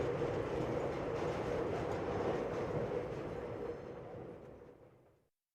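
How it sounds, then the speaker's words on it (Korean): A Seoul subway train bound for Macheon rumbles loudly into a station, the steady roar of wheels on rails fading as it slows and stops. "지금 마천행 열차가 들어오고 있습니다."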